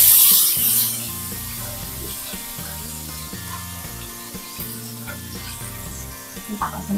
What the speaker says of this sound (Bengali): এবার দিলাম অর্ধেকটা টমেটো, এটা দিয়ে এবার একটু আমি নাড়াচাড়া করে দিলাম।